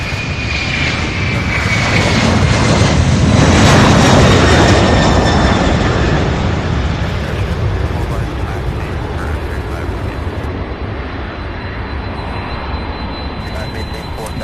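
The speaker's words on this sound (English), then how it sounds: "Beautiful Airbus A300 heading to Burbank, California, UPS flight 2914." A UPS Airbus A300 jet at Louisville's SDF airport roars loudly and close, building to a peak and then slowly fading into a steady distant engine rumble with a whining tone, alone without talk.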